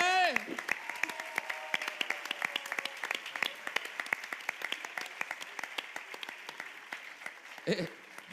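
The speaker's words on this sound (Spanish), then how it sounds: "lle damos un forte aplauso, sobre todo os que van a competir" An audience at a music competition claps in a scattered, crackling round of applause, with a voice and a brief tone at the start and a short vocal burst near the end.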